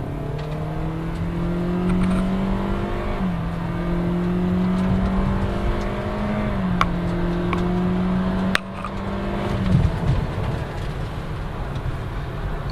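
A 2014 Toyota Corolla accelerates hard with traction control off, its engine droning up through rising pitch in long pulls, dipping briefly at each gear change, loud and close from inside the car, without speech.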